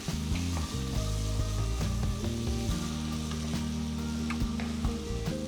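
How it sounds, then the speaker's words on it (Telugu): Chopped onions sizzle in hot oil with chillies and asafoetida in a pan for a cabbage chana dal curry, a steady fry under background music, with no talking. "తరిగిన ఉల్లిపాయ ముక్కలు వేసి మూడు నిమిషాలు కలుపుతూ వేయించుకోవాలి"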